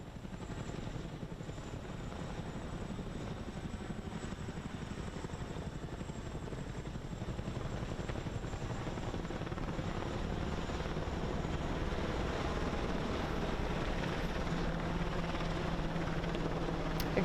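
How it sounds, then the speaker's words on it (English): Military helicopters from the 1st Air Cavalry Brigade pass overhead in a Fort Hood flyover honoring hospital workers, giving a steady, distant rotor drone and whir that holds at a constant level throughout with no talking. "this flight includes helicopters from the 1st Air Cavalry Brigade and the 1st Cavalry Division"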